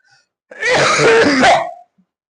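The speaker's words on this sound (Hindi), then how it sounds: "खांसी इस शिद्दत पर है, बोलने ही नहीं दे रहा है।" A single harsh cough burst lasting about a second, loud and close, with silence before and after.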